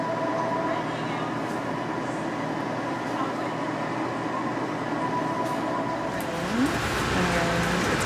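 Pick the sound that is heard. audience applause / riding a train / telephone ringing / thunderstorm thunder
riding a train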